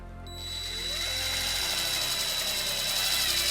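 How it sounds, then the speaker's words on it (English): A power tool drives a self-tapping screw with a 1/4-inch socket to ground a trailer wiring harness on a 2017 Toyota RAV4, whirring up and holding a steady, close, continuous whine. "we're going to use the provided self-tapping screw and a 1/4-inch socket."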